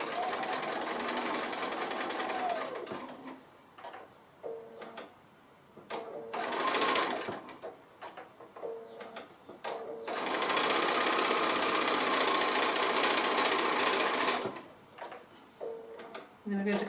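Sewing machine stitching a seam on a small snap-fastened Christmas stocking, running in several steady bursts with short pauses between, close and fairly loud, with a voice talking in the gaps.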